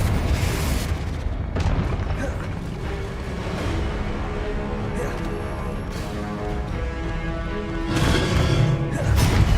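Confringo spell blasts in Hogwarts Legacy, several booming impacts among continuous combat noise, with loud hits at the start, a few more in the middle and a heavy burst near the end.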